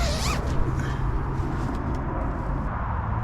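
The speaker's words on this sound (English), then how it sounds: "this has got the T-zip down here, which means it will open right up" The T-zip on a Lanshan 2 tent is opened outdoors with a brief zipping run at the start, partly masked by loud, steady wind rumble and rustle that continues throughout.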